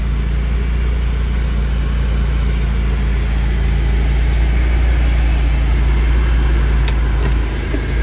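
A 2017 Subaru WRX with 70k miles runs steadily, its engine giving a constant low rumble and hum from inside the car, loud and even throughout with no talk.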